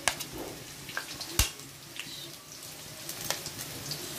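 Chopped garlic hits hot oil in a cooking pan, giving a soft, steady sizzle punctuated by a few sharp clinks and scrapes of a utensil, close by with no voices.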